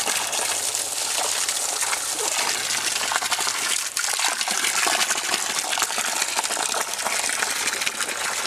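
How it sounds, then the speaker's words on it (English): Water from a garden hose pours steadily into a backyard pond waterfall, a loud continuous gushing and splashing close by that runs unbroken from start to end. "And now I have a waterfall."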